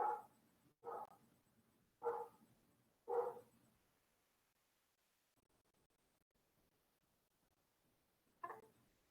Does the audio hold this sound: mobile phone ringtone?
no